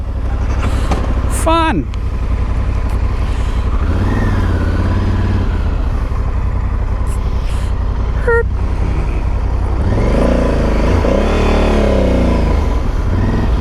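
A Honda CRF motorcycle engine is started and then revs as the rider pulls away across a parking lot, with a steady engine drone throughout and a brief spoken remark.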